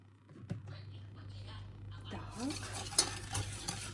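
Lemon cake batter of eggs and spoonfuls of dry ingredients being stirred in a bowl, quiet scraping and soft clinks of the utensil close by, growing busier toward the end.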